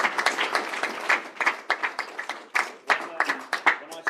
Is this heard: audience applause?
yes